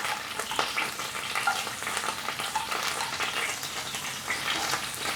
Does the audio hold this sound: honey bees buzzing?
no